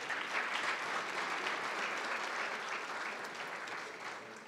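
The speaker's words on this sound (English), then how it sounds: "Let's give him one more round of applause." A banquet hall audience at an awards luncheon gives a sustained round of applause, dense clapping from many hands holding steady for several seconds before beginning to taper.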